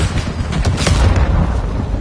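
Missile strike explosions in Call of Duty Modern Warfare 2 land as a loud, dense boom that rolls into a rumbling roar for about two seconds.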